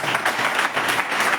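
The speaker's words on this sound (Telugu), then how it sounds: "నిన్ను చప్పట్లు కొడతా." A church congregation claps together in a steady, rhythmic beat, a dense wash of hands filling the room for a short stretch.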